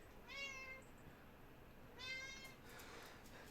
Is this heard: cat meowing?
yes